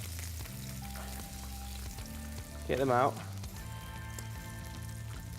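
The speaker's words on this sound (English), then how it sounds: "And you can still hear that. Listen to that. Sizzling." Soft, steady sizzling of buttermilk chicken frying in oil crackles throughout, with a brief spoken phrase and some clatter partway through.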